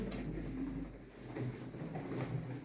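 Pigeons cooing at a Turkish bird auction in Şenyurt, Mardin, a low steady murmur of coos repeating close by throughout, with no talk.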